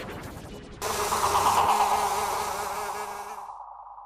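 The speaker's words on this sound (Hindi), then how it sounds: "काटा है आपको मच्छर।" A mosquito buzzes in a steady, high, whining drone that starts abruptly, holds loud and close for a few seconds, then cuts off.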